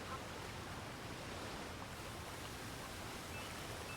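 Steady rushing water from a waterfall in Super Mario Odyssey, a continuous broadband roar that holds even and unbroken throughout with no pauses or changes.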